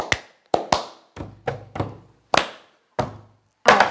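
Cup song rhythm played by a school choir class: hand claps and plastic cups knocked and slapped on a table in a steady, sharp pattern of about nine distinct percussive hits, close and clear with no voices.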